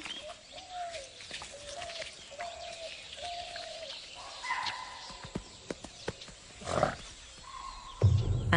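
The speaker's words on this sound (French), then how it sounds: "Soudain, un cri d'alerte les perturbe." Alarm calls ring out in a jungle where Bengal tigers live: a faint, repeated series of short tonal cries, then scattered higher calls and chirps over quiet forest ambience, with a louder burst near the end.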